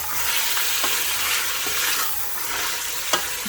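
Mutton, about 700 grams, frying on a high gas flame, a dense steady sizzle close up with occasional soft clicks and scrapes as the meat is stirred.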